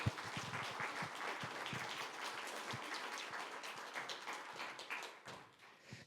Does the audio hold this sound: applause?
yes